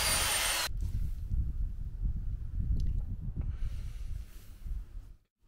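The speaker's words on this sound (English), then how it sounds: "pour the base coat into a mixing bucket and mix with a mixing drill" A loud hiss cuts off, then a mixing drill churns steadily through thick render base coat in a mixing bucket with a low grinding rumble before stopping abruptly.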